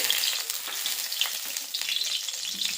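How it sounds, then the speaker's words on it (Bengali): Mustard oil sizzles and crackles steadily in a hot wok, a continuous close hiss with small pops and no voices. "এই কড়াইতে আর একটু সর্ষের তেল দিয়ে দিলাম"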